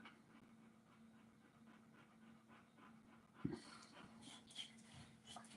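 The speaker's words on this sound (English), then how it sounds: "This damn dog." An older dog pants and whimpers up close indoors, soft rhythmic breaths with faint whines, then louder snorts and rustling near the end as she stirs.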